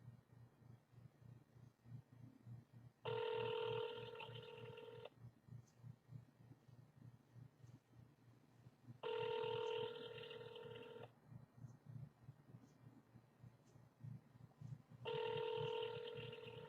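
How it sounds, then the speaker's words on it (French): Ringback tone on an outgoing telephone call: three evenly spaced bursts of ringing separated by long quiet gaps over a faint low hum. "Ça sonne."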